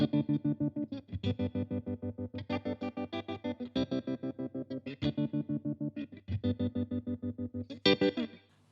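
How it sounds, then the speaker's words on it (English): Electric guitar runs through an MXR M305 tremolo pedal at full depth, and the chords are chopped into a fast, even on-off pulse with hard cutoffs. Loud and continuous, with no talking. "So that's an incredibly choppy tremolo sound there"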